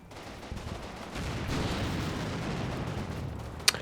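Infantry small-arms fire in the WWII tactics game Combat Mission, American troops shooting at German infantry in an alleyway at Carentan: a dull, rolling rattle of distant rifle and machine-gun fire, ending in one sharp nearby crack.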